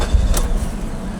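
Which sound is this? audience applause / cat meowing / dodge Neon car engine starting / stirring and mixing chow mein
dodge Neon car engine starting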